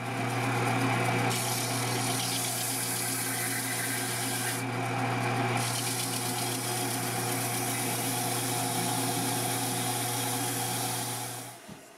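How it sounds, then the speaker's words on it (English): A belt sander hums steadily while grinding a wooden soundboard brace, a continuous motor drone with rasping friction that shifts slightly, then winds down at the end. "I'll sand this one on the belt sander"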